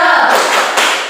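A primary school class claps a rhythmic 'tepuk semangat' cheer in a classroom, a loud, quick run of hand claps and taps lasting about a second.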